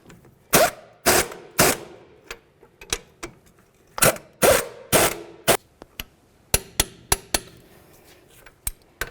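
A wrench tightens the nuts on a front strut and spring assembly of a 2009-2020 Dodge Journey, giving a close series of sharp metallic clicks and short bursts in uneven clusters, with no talking.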